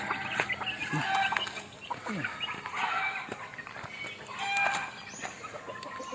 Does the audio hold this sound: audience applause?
no